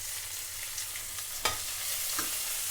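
Chopped onion fries gently on a low flame for a Sri Lankan dish, a soft continuous sizzle with a couple of sharp stirring clinks and scrapes, and no one talking.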